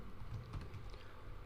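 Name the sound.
typing raw_input on a computer keyboard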